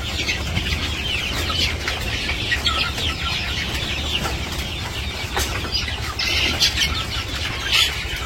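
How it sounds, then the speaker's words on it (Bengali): Chickens being fed cluck and flap their wings near at hand, a busy continuous scramble of short calls and feather rustles with brief louder bursts of wing beats toward the end. "তো মুরগিরে খাবার দিচ্ছে"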